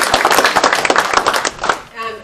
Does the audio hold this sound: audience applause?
yes